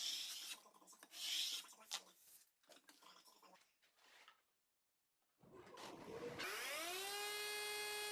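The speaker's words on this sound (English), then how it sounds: "Then scraped off the squeeze out once everything was set." Dried glue squeeze-out is scraped off glued wood parts for a live edge garden table, with close rasping strokes in uneven bursts, then a short silence before a machine motor spins up and hums steadily.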